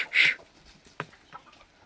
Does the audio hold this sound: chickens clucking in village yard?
yes